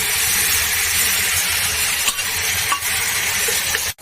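Potatoes tossed into a hot pan with ridge gourd, green chillies and stalks, frying in oil; a loud, close, continuous sizzle and hiss with a few light utensil clinks and no talking.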